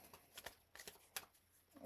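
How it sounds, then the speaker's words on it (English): A brand-new deck of playing cards is shuffled during a trading card game session, giving a quiet series of crisp riffling and flicking bursts close by. "I want to give it an extra shuffle compared to what I normally would do because these are brand new."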